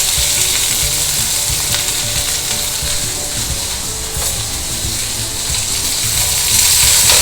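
Broad beans fry in a pan with mustard seeds, urad dal, cumin and curry leaves, making a loud, dense, continuous sizzle. The crackling is close and unbroken, with no speech over it.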